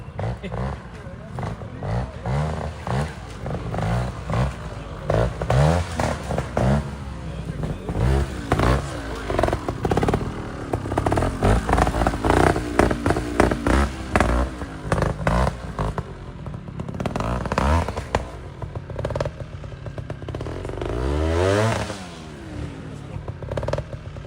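Motorcycle engines rumbling and revving nearby at a national trials championship round in Nebraska, rising and falling over several seconds, with talk and clatter mixed in.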